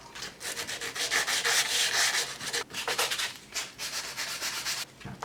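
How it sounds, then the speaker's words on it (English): Coarse sandpaper rubs back and forth over a wooden Camp Crystal Lake sign to give it a weathered look, rhythmic rasping strokes up close with brief pauses between passes. "I want this to have a weathered look, so some of the sandpaper is really aggressive to get some gouges in there."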